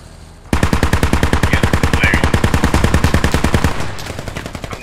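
Sustained automatic gunfire in the military shooter Squad, a loud, rapid, evenly paced burst of dozens of rounds lasting over three seconds, then quieter continued shots.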